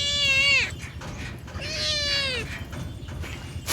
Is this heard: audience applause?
no